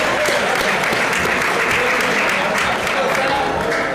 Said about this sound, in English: Let's give a round of applause for Coach Hemel.